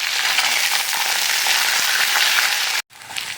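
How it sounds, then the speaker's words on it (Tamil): Garlic and curry leaves frying in hot oil with mustard seeds, dal and fennel for a brinjal and drumstick thokku, making a loud, dense, steady crackling sizzle close up that cuts off abruptly near the end. "கடுகு பருப்பு சோம்பு தாளிச்சிட்டு கருவேப்பிலை போட்டோம். அதுக்கப்புறம் பார்த்திங்கன்னா பூண்டு சேர்த்துட்டோம்."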